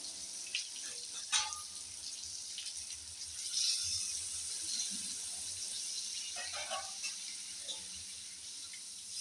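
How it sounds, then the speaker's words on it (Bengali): Water is poured into sautéed chicken in a pan for boiling while making chicken noodles, a quiet splashing hiss that swells briefly and then settles into faint trickling and bubbling. "তো সেদ্ধ করার জন্য এর মধ্যে দিয়ে দেবো জল"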